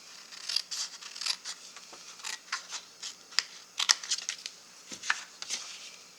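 Scissors snip a small miter into a paper gift box piece for a gift card holder, a run of short crisp paper cuts and clicks at close range, with no talk.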